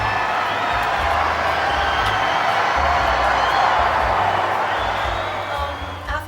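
A crowd at a late-night talk show cheers and whoops in a sustained roar of voices that rises and then tapers off toward the end.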